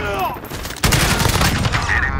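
A dense burst of rapid automatic gunfire erupts loud and close in Modern Warfare, sustained suppressing fire that follows a brief quieter stretch with a voice.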